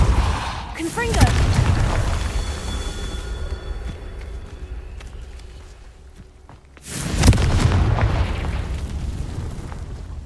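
Two loud fiery blasts from the Confringo spell in the wizarding game Hogwarts Legacy, each a sharp burst trailing into a rumbling decay, the second about six seconds after the first.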